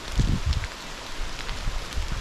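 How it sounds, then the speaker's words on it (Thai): Rain falling in the forest on Doi Hua Mu mountain, a steady dense patter with low thuds of drops landing nearby, continuous and fairly loud with no talk. "จะเห็นฝน ตกทั้งวันทั้งคืนเลยช่วงนี้"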